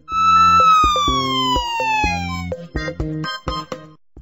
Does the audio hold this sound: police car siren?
yes